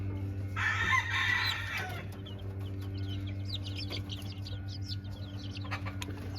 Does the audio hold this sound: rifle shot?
no